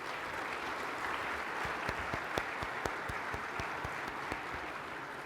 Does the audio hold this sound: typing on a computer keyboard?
no